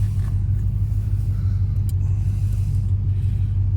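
A Ford Falcon AU XR8 V8 idles with a deep, steady rumble while the gearbox is shifted into second through a short shifter, loud and close with little variation.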